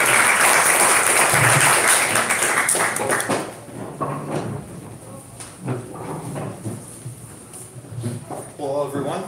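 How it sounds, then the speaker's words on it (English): An audience at a presentation in Korea gives loud, dense applause for a presenter stepping onto the stage; the clapping thins out after a few seconds, leaving scattered claps and room murmur with a voice starting to talk. "Please give him a round of applause."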